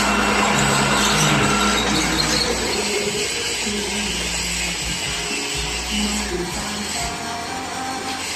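A power drill bores steadily through a workpiece at a production workshop, a loud, continuous mechanical whine with grinding tones and no talking.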